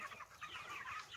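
Rooster clucking faintly, a short run of soft, low clucks heard from a distance over quiet background.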